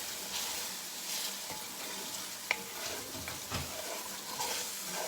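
A roux for chicken stew being stirred in a pot, with a continuous low sizzle, scraping spoon strokes and an occasional sharp clink against the pot, close and moderately quiet.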